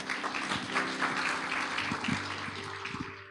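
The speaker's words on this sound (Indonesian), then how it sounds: "Kasih tepuk tangan buat Tuhan" Congregation applauding during a Pentecostal church service, a dense, steady wash of clapping that holds at an even level for several seconds, with a low background hum underneath.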